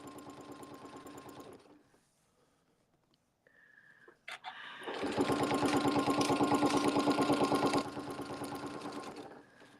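Sewing machine runs a longer stitch through vinyl in two steady, loud mechanical bursts separated by a near-silent pause and a brief adjustment noise.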